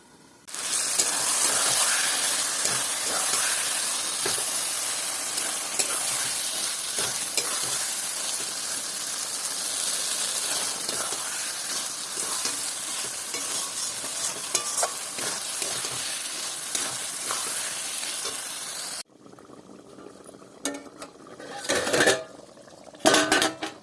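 Coconut chicken cooks in a covered pan, giving a steady close sizzle and hiss with scraping stirring and clinks of utensil on metal, then the sizzle drops out and a few sharp lid and pan knocks follow.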